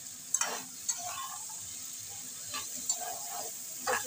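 Taro leaves (kochu shak) sizzle in a pan over a high flame, with a steady frying hiss broken by several sharp stirring scrapes. The sound is close and clear, with no voices.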